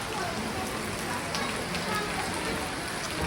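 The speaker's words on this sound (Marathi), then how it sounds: "पाऊस जोरान पडतोय" Heavy rain pours down in a steady, dense hiss on an outdoor road on the way up to a hill temple, continuous and fairly close.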